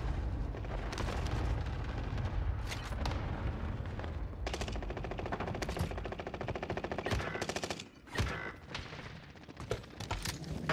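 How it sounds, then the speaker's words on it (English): Rapid bursts of automatic gunfire in Call of Duty Warzone on Rebirth Island, dense rattling volleys with sharp single cracks, loud and close, pausing briefly before resuming. "Where am I getting shot?"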